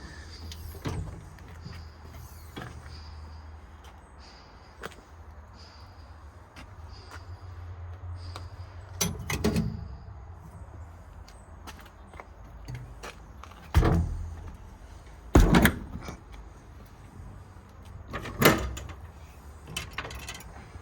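Utility bin doors with gas shocks on a 2012 Ford F-550 service truck are opened and closed in the quiet, giving several separate thumps and latch clunks with short pauses between them.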